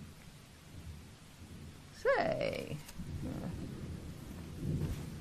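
A thunderclap cracks sharply overhead and rumbles away during a steady rain storm, with someone speaking briefly just before it.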